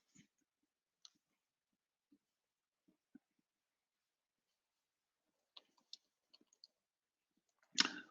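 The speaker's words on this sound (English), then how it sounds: "I'm gonna type it for you" Sparse, faint clicks from typing on a computer keyboard, isolated single keystrokes scattered over a quiet background, ending in a brief louder cluster of taps.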